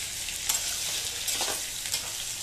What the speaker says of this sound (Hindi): सूरन को हमें तब तक फ्राई करना है जब तक कि अच्छे से लाल ना हो जाए।